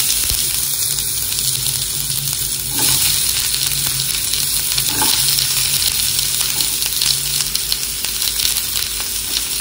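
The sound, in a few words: onion frying in oil in hot pan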